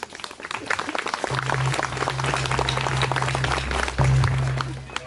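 An audience claps loudly at the close of a Lota Pani engagement ceremony in Ladakh, a dense patter of many hands over a steady low hum, with voices talking under it.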